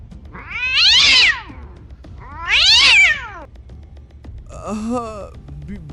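A cat meows three times, loud and close: two long, drawn-out calls followed by a shorter, lower one, over a faint steady background hum.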